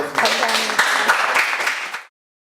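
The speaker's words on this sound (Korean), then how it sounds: "박수로 일단 마무리하겠습니다." A short burst of applause from a small group at a book club author talk, steady clapping for about two seconds before it stops abruptly.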